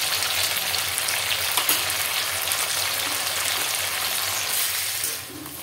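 Jackfruit curry ingredients with tomato fry in a pan, giving a steady, close, dense sizzle that runs evenly throughout and eases slightly at the very end, with no talk.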